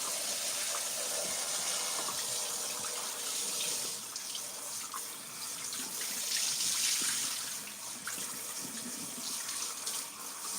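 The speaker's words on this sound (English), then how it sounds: "we're just gonna rinse this off" A tap runs steadily as something is rinsed under it, a continuous hissing splash at moderate volume that shifts slightly in tone with no talking over it.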